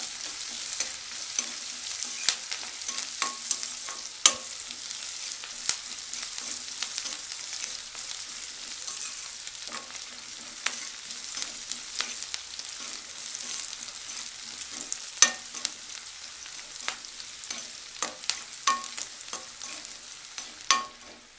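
Chopped onion pieces sizzle and fry steadily in a pan with salt, with frequent scraping and clinking of a stirring spoon as they cook, close and continuous with no talking.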